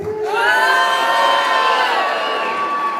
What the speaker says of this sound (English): pray applaud for your favorite in the male lover. John Jasper.